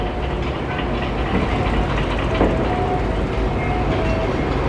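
Construction machinery keeps working on a project site, giving a continuous, loud mechanical rumble with a clanking, rail-like rattle and a few faint tonal whines over it, and no talking.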